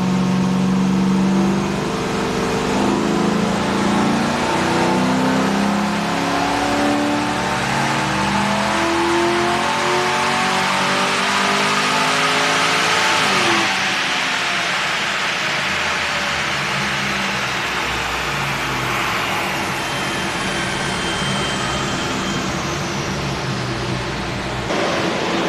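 LS V8-swapped Mercedes on dyno rollers: loud, sustained engine run with rising revs climbing through the gears, then a high-pitched wind-down as the throttle eases.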